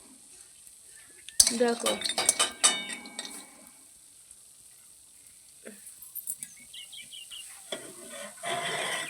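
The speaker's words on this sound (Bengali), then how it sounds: "লাল লাল করে ভাজবো এই বড়ি" Bori lentil dumplings fry in hot oil, with a soft sizzle beneath bursts of a spoon scraping and clinking against the pan, then quieter stirring; a voice briefly speaks.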